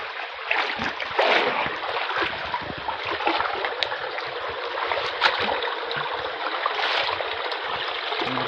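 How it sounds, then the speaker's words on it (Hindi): Water pours steadily over stones at a mountain waterfall, a continuous loud broadband rush that stays constant, with slight surges in intensity throughout. "इधर से पूरा पानी निकल रहा है पूरा बाहर से."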